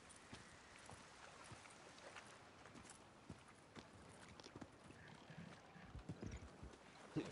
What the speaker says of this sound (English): They got horses here